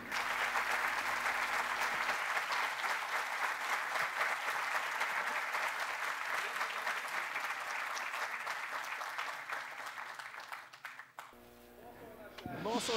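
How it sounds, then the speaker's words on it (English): Sustained applause from a large crowd for a trophy winner at the FIEC Summit 2022 opening ceremony fills the room, steady and dense, then thins out toward the end as scattered claps fade. "Round of applause to the trophy winner"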